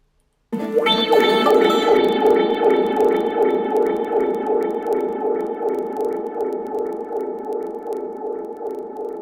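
Dub-style music track treated with stacked echo and delay effects, a sustained tonal groove whose repeating pulses smear into trailing repeats, steady and fairly loud throughout with no voices.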